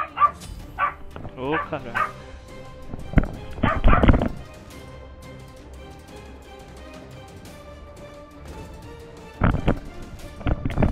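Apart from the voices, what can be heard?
dog barking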